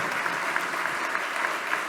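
Dense, steady audience applause at the closing of the CLABE congress, a full room clapping continuously at an even, moderate level.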